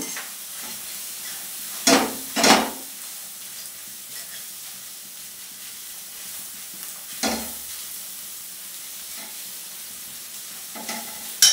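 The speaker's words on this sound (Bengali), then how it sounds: "এটাকে ভালোভাবে ফ্রাই করে নেব।" A pan of egg fried rice fries under a faint, steady hiss, broken by a few sharp scraping stirs near the start, one in the middle and one near the end, with no talk.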